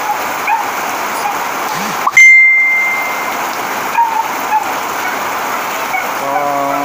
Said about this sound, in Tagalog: pag ganto kalakas ng ulan, talagang papasok sa mga bahay-bahay